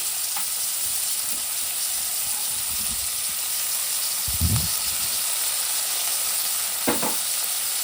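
Soaked moong dal sizzles in a frying pan, a loud, steady close-up hiss of hot oil throughout, with a few brief stirring knocks and scrapes against the pan.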